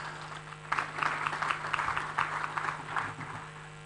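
Audience at a national SDGs conference clapping for a speaker, a dense patter of applause that swells after a brief lull and carries on steadily at moderate loudness, no voices over it.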